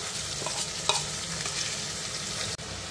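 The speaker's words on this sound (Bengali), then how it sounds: "চিকেনগুলোকে হাই ফ্লেমে 5 মিনিট ভেজে নেব।" Marinated chicken fries on high flame for chicken pulao. A loud, continuous sizzle is broken by a few stirring scrapes and continues almost without pause, with no talk.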